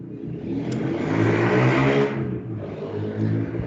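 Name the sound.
motorcycle engine revving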